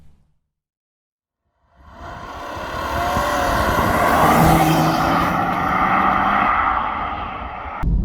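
A 2014 BMW 335d xDrive Touring F31 diesel estate with a Stage 1 tune drives off: after near silence its engine note swells loudly and holds a strong, sustained roar before stopping abruptly.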